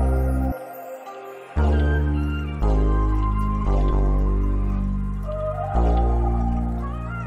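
A melodic music loop plays in FL Studio for a hip-hop beat, with sustained, rich tonal chords and watery, bubbly textures that shift every second or so at a moderate, steady level.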